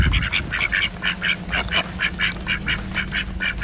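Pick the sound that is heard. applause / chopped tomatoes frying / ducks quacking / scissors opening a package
ducks quacking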